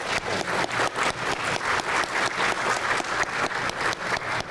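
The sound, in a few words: conference audience applause for speaker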